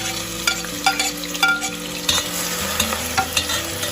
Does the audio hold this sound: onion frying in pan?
yes